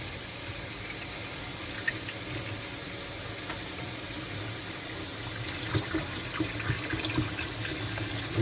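Tap water runs steadily in a continuous broadband hiss while fish are rinsed, with faint clinks and splashes of handling toward the end and no talk.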